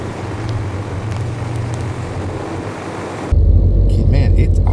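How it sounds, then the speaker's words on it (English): A loud, rumbling 416 stroker LS3 V8 in a G8 idles rough with a heavy low drone that grows stronger partway through, uneven and throbbing, recorded up close. "it's idling rough, man. It sounds rough."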